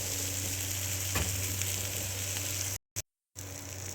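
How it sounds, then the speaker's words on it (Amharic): Four eggs fry in a pan for breakfast, giving a steady close sizzle with a low hum beneath, briefly cut by two short gaps of silence near the end. "ያውት እንዲህ አድርጌ 4 እንቁላል ነው ጨምሬያለሁ"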